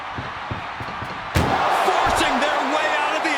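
A single loud slam of a heavy ambulance door in the video game WWE 2K25, preceded by a few dull knocks and followed by scraping and clatter.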